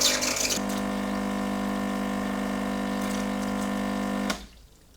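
A coffee machine being descaled runs hot water out in a steady pumping hiss over a low mechanical hum, holding even for about four seconds before it cuts off abruptly.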